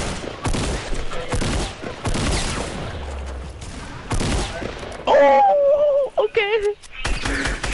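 Shotgun blasts in a video game, a few sharp bursts scattered among loud game noise and talking voices, with a burst of tonal effects near the end.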